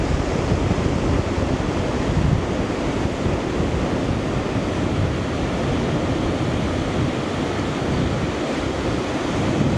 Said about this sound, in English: I think it's going to get pretty windy.